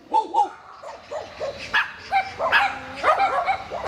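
A dog barks and yips in quick, excited bursts up close, with whining, whimpering tones between the barks over about four seconds.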